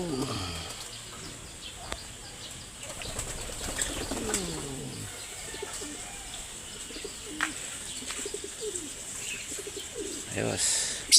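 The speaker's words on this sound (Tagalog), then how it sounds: "Yung mga kalapatids natin nasa baba." Pigeons in a loft coo in low repeated rolls, with bursts of wing flapping and scattered chirps nearby, while someone talks intermittently.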